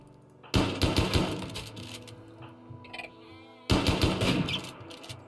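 Two loud bursts of rapid RimWorld gunfire, the first lasting about three seconds, then a pause with faint background tones before a second volley.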